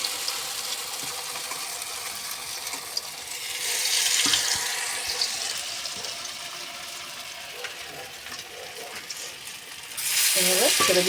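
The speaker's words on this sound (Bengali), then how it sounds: "এগুলোকে তেলের মধ্যে ছেড়ে দেবো।" Wheat-flour pieces coated in batter are dropped into hot oil for shallow frying, the sizzle swelling loudly as each batch goes in and then settling to a softer crackle.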